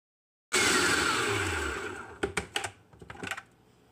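A food processor motor whirs loudly for about a second and a half while pulsing leafy greens, then winds down, followed by a few short chopping bursts and rattles.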